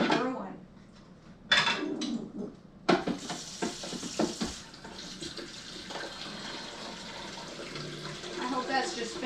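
Gurgling, hissing water sounds from a brewing machine, with bursts of sputtering and steam, while a person talks intermittently nearby.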